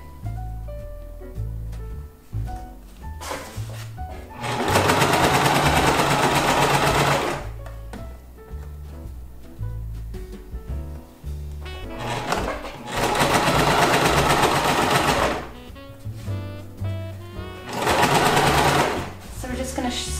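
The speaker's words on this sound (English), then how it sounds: "I've just been sewing along here, being careful to catch the back side" A sewing machine stitches the fabric of a square Christmas tree skirt in three loud, steady bursts, with quiet gaps of handling and soft talk between runs.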